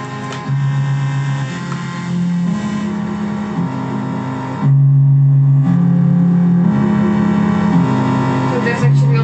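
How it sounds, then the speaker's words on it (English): Distorted hardware synth in a live setup, a sustained buzzy bass line stepping between notes with gritty harmonics, loud and continuous, with delay and ring modulation also on the chain. "So there's actually also pretty nice sort of distortion."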